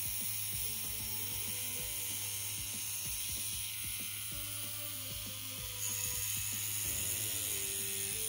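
A Vlad Blad Ultron pen tattoo machine with a cartridge installed hums at a steady, quiet, low drone close by, with faint irregular clicks and ticks over the continuous buzz.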